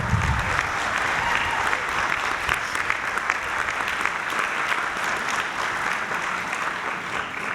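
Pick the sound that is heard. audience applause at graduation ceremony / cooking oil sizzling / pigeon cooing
audience applause at graduation ceremony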